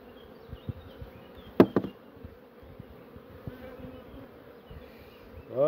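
Honeybees buzzing around an opened hive during colony splitting, a steady low hum with a few sharp knocks and taps from handling frames, fairly quiet and close.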